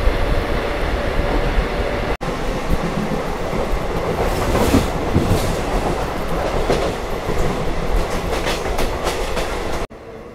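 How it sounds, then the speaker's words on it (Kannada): A DEMU train running on rails on the Bengaluru–Hassan route, heard from on board as a loud steady rumble with rhythmic clickety-clack of wheels over rail joints, no talk. "ನಮ್ಮ ಡೆಮೋ ಟ್ರೈನ್ ಸದ್ಯಕ್ಕೆ ತಲುಪಿದೆ ಚಿಕ್ಕಬಾನವಾರ ರೈಲ್ವೆ ಸ್ಟೇಷನ್ಗೆ"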